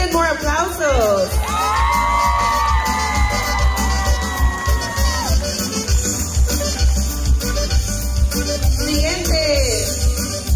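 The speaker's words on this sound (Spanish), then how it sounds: "They need more applause." Guests at a quinceañera cheer loudly with long whoops and shouts above steady party noise and a low rumble, the crowd roar continuing for about ten seconds.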